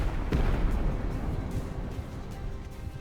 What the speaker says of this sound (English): So this cannon will shoot at that one.